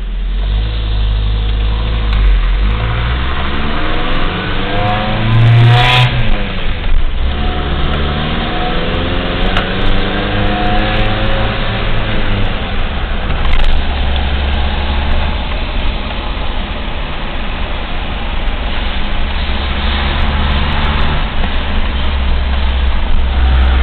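A car engine idles loudly and close by with a steady rumble, rising in a few revs along the way.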